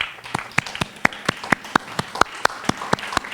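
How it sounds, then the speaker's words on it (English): At an ashram anniversary celebration, an audience honors board members with applause heard as a soft rustling wash, while a few sharp, evenly spaced claps stand out close by. "give you a round of applause"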